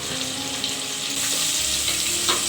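Crushed ginger and garlic fry in a hot pan for egg biryani, a dense, loud, continuous sizzle with hissing swells as they are stirred.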